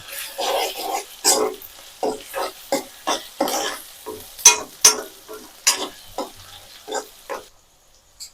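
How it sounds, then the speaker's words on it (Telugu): Ginger garlic paste frying in hot oil in a pan, giving a crackling sizzle broken by repeated stirring scrapes and a few sharp clinks, close and moderately loud with no talking. "అల్లం వెల్లుల్లి పేస్ట్ పచ్చివాసన పోయే వరకు ఫ్రై చేసుకుందాం ఆయిల్లో"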